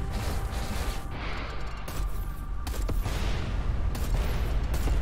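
Flak cannon firing in a space sim video game: a sustained barrage of booming, crackling bursts over a constant low rumble, loud and continuous, with sharper blasts near the two, three and four second marks.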